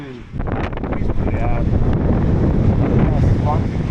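Strong wind blowing near the beach at Karaikal, gusting roar and buffeting across the whole clip with wind noise hitting the microphone, and voices talking faintly underneath.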